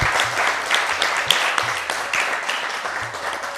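Studio audience clapping at an Eid special music show on a TV set, a steady, fairly loud wash of many hands with some crisp individual claps near the front.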